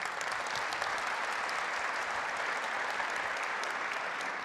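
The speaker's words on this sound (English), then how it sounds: "So let me give a round of applause to the team." A round of applause for the team at a product unveiling of the Aalo-1 nuclear prototype and Aalo Pod, steady even clapping from a crowd, quiet and somewhat distant, continuing evenly throughout.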